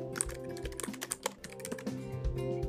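Steady computer keyboard typing with uneven clusters of keystrokes, close and fairly quiet, as an invitation message for a Google Groups group is written; no voices.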